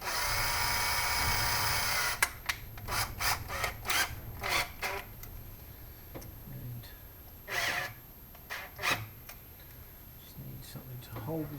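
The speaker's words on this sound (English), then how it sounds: "So first things first, we need to drill this out." A high-speed drill bores out a 3D printed part for a Nerf DL44 blaster, a whining buzz at first, then a series of short, sharp bursts and clicks with quiet gaps between them.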